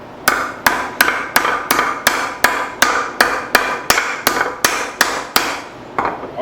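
A hammer strikes a forged steel spoon bowl during final shaping, about a dozen sharp ringing metallic blows landing at a steady, even rhythm, close and loud with no talking.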